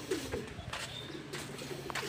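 Pigeon cooing from a racing pigeon, soft and fairly distant, set against steady outdoor background noise with faint birdlike calls scattered through.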